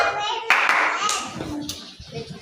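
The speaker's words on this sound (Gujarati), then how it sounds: "ચલો 2 તાળી પાડું છું" A teacher in a classroom of young children claps twice, two sharp close hand claps that stand out over murmuring children's voices.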